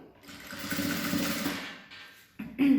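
A sewing machine stitches through a folded fabric strap for a car trash bag, a close, steady mechanical whir that pauses and then restarts briefly for a backstitch.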